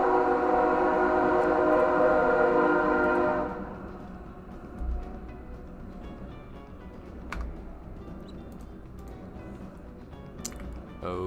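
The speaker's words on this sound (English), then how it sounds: "there's a train coming." A train passing close to a house sounds a loud, sustained, tonal horn for several seconds, then fades into a lower rolling rumble with occasional clanks; there is no speech.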